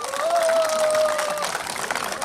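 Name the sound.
applause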